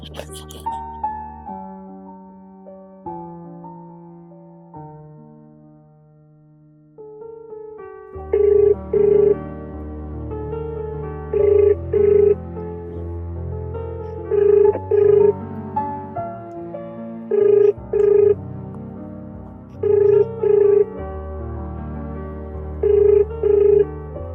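A phone rings out during a call, heard as a repeated pair of tones at regular intervals over a soft background music score, steady and moderately loud with no talking.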